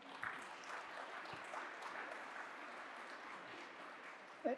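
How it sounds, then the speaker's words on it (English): An audience at an economic summit's education panel applauds in a faint, distant wash of clapping that stays even and subdued, with a brief louder knock near the end. "Can you give them a round of applause, please?"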